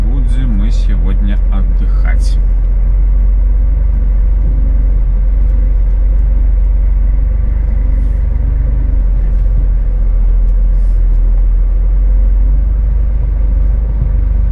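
A truck engine rumbles loud and close in a steady low drone as it reverses into a parking spot, with a voice speaking briefly at the start.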